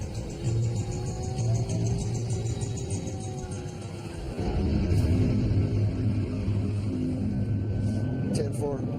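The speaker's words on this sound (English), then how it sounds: "Trooper Cook floors the Charger and moves into lead position" A police Dodge Charger accelerates hard during a pursuit in Alaska, its engine roaring loud and steady with a heavy low rumble that swells partway through, while a voice talks over it.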